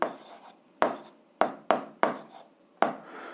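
Handwriting of an algebra expression, a series of about six sharp, separate strokes with short scratchy tails, up close and alone.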